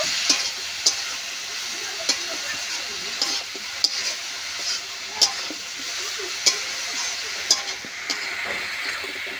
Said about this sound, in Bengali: আবার একটু ভালো করে কষে নেব।